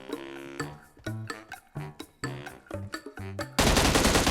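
M16 fired in automatic mode in PUBG Mobile: loud, close rapid bursts of gunshots in an uneven rhythm, ending in a dense wash of sustained fire.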